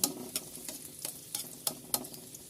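Chopped onion sautéing in a pan as the base for Filipino Bicol Express with ampalaya, soft sizzle broken by a regular series of scraping stirs about every third of a second, close and fairly quiet, with no voices.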